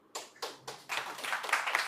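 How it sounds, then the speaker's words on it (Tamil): An audience at a retirement program claps: three separate claps come first, then they quickly swell into dense, continuous applause from a crowd nearby. "26 வருஷம் கழிச்சு வாய் திறந்து பேசின தஷாவருக்கு ஒரு பெரிய கைத்தட்டல் கொடுப்போம்."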